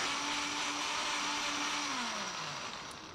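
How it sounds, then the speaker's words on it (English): Ordinary spinach spins in a household blender with a steady high whirring buzz whose motor pitch sags and then fades as it winds down, with no voices. "we grab some tissue, some ordinary spinach, and add it to a household blender."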